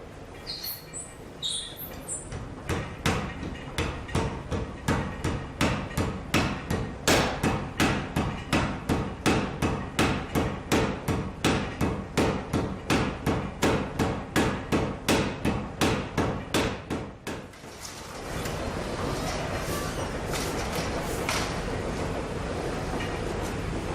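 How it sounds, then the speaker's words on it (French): A water-powered trip hammer (martinet) in a tool forge pounds in a fast, steady series of loud, sharp blows for about fifteen seconds, then stops, leaving a broad rushing-water wash. "ça se compose d'un martinet généralement, qui permet donc de travailler, de façonner des outils."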